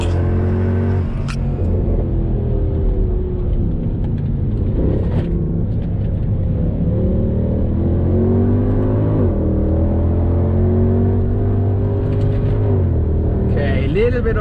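A Mercedes W204 C63 accelerating hard on the Nordschleife with Sport ESP engaged, its engine note climbing through repeated rising sweeps between gearshifts, loud and close from inside the cabin with steady road rumble beneath.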